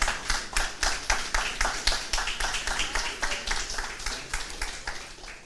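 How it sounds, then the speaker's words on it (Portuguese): A church congregation applauds after a sermon reading, sustained dense clapping from many hands with a slightly pulsing rhythm, loud and continuous throughout with no talking over it. "Pode aplaudir a palavra do Senhor,"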